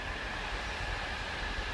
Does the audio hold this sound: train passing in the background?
yes